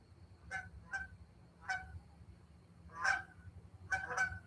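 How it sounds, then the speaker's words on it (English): Several geese flying overhead honk in short, scattered calls, some overlapping, fairly faint and distant against a quiet outdoor background. "We got some geese flying overhead."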